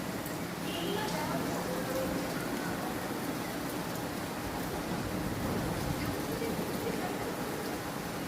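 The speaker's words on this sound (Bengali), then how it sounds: "প্রচণ্ড বৃষ্টি হচ্ছে।" Heavy rain pours down in a dense, constant roar of drops on surfaces, steady and enveloping throughout.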